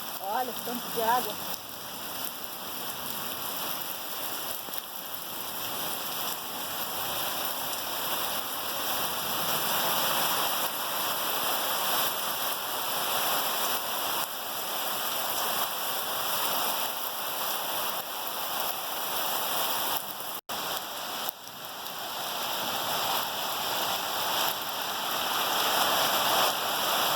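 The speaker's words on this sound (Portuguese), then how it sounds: "Muita chuva." Heavy rain pours steadily on a farm in the countryside, a dense continuous hiss close by with no break, and brief speech near the start.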